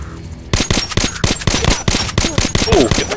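Rapid automatic gunfire from an enemy shooter in Metro Last Light hammers out in loud, close bursts after a short quiet start, shots following each other in a fast, uneven rhythm.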